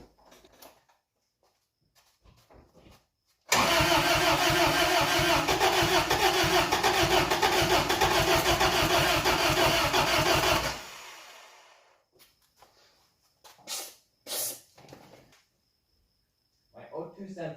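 A 1992 Isuzu pickup truck that sat for years cranks and fires, its engine roaring loud and steady for about seven seconds before winding down, followed by faint clicks and movement.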